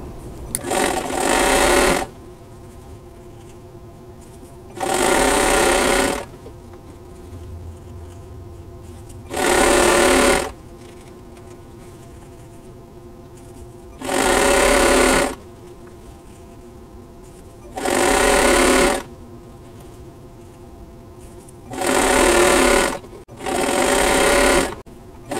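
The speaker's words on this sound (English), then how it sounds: "so they'll just go through the sewing machine a little easier" A sewing machine stitches patches for an Amish Star quilt block in seven short bursts of fast, whirring buzz, each lasting one or two seconds. Quiet pauses separate the bursts, and the machine sits close.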